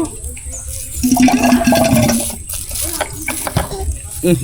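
A newly installed motor pump on a farm draws water, gurgling and splashing unevenly in surges while people talk nearby.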